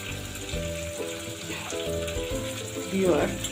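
Onions frying in a pan for a curry with drumsticks, eggplant, potato and chapila fish, a steady close sizzle with a brief louder burst near the end.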